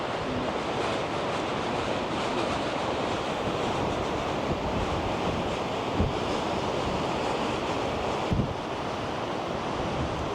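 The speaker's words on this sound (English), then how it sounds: "It's really windy up here, so I'm trying to cuff the mic as much as possible." Strong, steady wind buffets the microphone on a high clifftop at Ta' Cenc cliffs on Gozo, Malta, a loud continuous roar with a few brief bumps of the mic being cuffed, and no voices.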